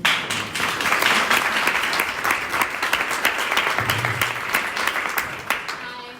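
An audience at a social justice panel applauds the speakers, a dense, even wave of many hands clapping that stays strong and then gradually thins toward the end.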